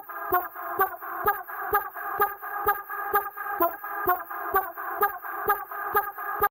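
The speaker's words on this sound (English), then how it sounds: "I took a Yoshi sound and loaded it up into Serum." Yoshi voice sample from the Mario Kart 8 video game, loaded into Serum and played as a melody: a bright, synthetic repeating tone in steady, evenly spaced notes, close and clear with no talk.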